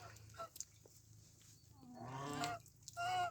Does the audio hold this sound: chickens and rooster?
yes